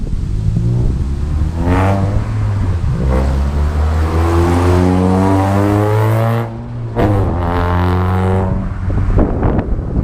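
A car engine revs hard and accelerates with a loud, sustained rising drone, briefly dipping before surging again, close by and with no talking.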